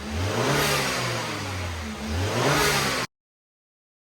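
A BMW F10 engine revs hard as it builds boost, two rising surges of loud, near engine roar, then it cuts off abruptly into silence.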